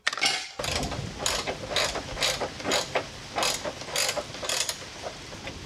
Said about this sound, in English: Just got to torque this side down, and side number two is done.